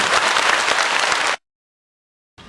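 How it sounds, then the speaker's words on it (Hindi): A large audience at a meditation session in Rabindra Mandap, Bhubaneswar, breaks into loud, dense clapping that stops abruptly, followed by a brief silence before it starts again. "जोर से तालियां बजाएंगे"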